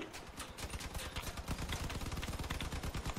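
Rapid automatic gunfire from vehicle weapons in the online combat game Crossout, a dense, steady stream of shots growing louder and more continuous toward the end.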